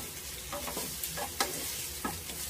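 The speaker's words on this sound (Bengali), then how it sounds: "ভালো করে ডিমটা ভেজে দেব।" Eggs fry in a pan with a steady, quiet sizzle, broken by several sharp spatula scrapes and taps as they are turned and stirred.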